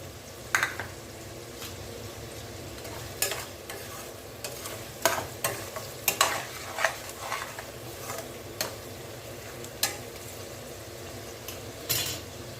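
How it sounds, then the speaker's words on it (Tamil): Gooseberry pickle mixture frying in oil, with a steady soft sizzle and repeated sharp scrapes and clinks of a spoon stirring against the pan, close up with no talking. "எண்ணெய் பிரிஞ்சு மேலே சலசல சலன்னு வருது"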